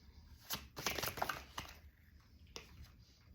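Tarot cards are shuffled and laid out by hand in a quiet room, giving soft close papery flicks and slaps in a few short bursts with pauses between.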